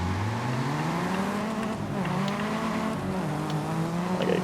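A Nissan Tsuru on street tires with a taxi sign launches hard in Forza Horizon 5, its engine note climbing steadily in pitch through the gears, loud and continuous with a hint of tire noise.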